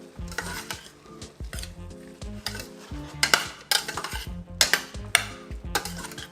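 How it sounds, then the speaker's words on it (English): A spoon stirs steamed cabbage in a pot on the stove, scraping and knocking against the metal in irregular strokes over a soft sizzle, with a few sharper clanks near the end and no voices. "Give it a stir."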